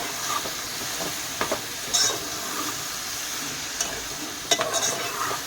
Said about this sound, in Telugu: ఉల్లిపాయలు వేసుకొని బాగా కలుపుకోవాలి.